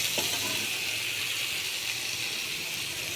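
Chopped tomatoes with a pinch of salt sizzle in hot oil while being stirred, a steady close hiss with no talking.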